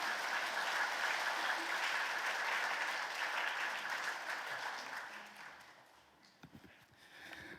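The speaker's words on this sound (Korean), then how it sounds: "우리 옥경성 목사님 나오실 때 우리 박수로 환영해 주셨으면 좋겠습니다" A church congregation applauds to welcome Pastor Ok Kyung-seok to the front, sustained crowd clapping that holds steady and then gradually dies away. A few faint thuds and shuffles follow as it ends.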